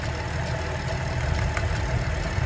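Buick Enclave engine idling with the AC compressor running, a steady low mechanical hum and drone holding even throughout at moderate level, no voices.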